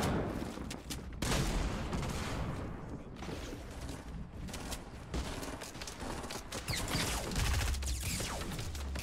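Rapid bursts of gunfire crackle through a video game duo squads shootout, with overlapping shots and sharp impacts over a constant busy background at moderate loudness.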